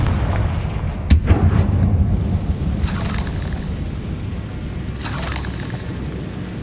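A Confringo fire spell bursts in Hogwarts Legacy with a sharp blast, then rolling booms and rumbling swells that fade into a low, steady roar.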